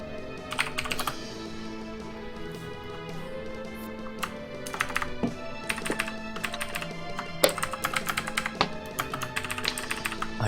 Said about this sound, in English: I hear keyboards attacking.